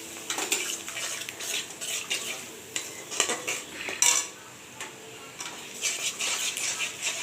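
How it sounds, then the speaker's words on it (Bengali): A spatula stirs and scrapes poppy seed and cashew paste in a metal pan, close up. The strokes come in uneven bursts of clattering and scraping, with a soft sizzle between them and no talking. "পোস্ত আর কাজু বাদাম বাটাটা ভালোভাবে কষিয়ে নেব"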